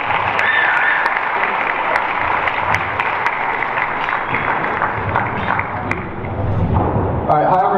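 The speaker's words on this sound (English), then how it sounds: "A round of applause," An audience applauds at a graduation celebration, dense clapping that carries on steadily with cheering mixed in and voices rising through the crowd noise.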